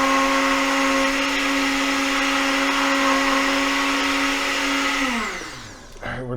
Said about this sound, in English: we're cleaning and decontaminating the blender